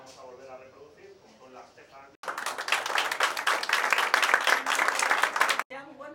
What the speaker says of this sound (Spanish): Más fuertes aplausos para despedir y agradecer la presentación del tremendo kiosco de Retreta